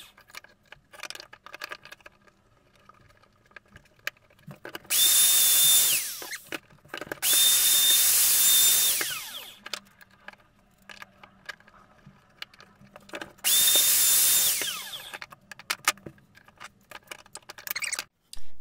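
Router cutting straight box-joint dovetails in wood boards with a jig, three loud whining passes of a few seconds each separated by quieter pauses with handling clicks and knocks, close up, no talk.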